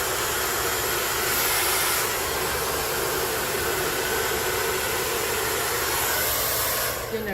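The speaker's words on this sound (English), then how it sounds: "You'll notice when I'm blow drying with my round brush" A blow dryer roars continuously and close up while hair is dried with a round brush, its steady airy whoosh holding for about seven seconds before cutting off at the very end.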